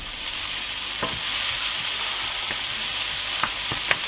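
Onions and shallot searing in a pan over medium heat, a steady close sizzle and hiss with a few light clinks of stirring and no voices.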